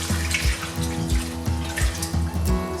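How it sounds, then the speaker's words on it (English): Water poured from a tap or container into a pot of cassava, a steady close splashing stream with a few rhythmic gurgling surges, no talking. "Add water to it."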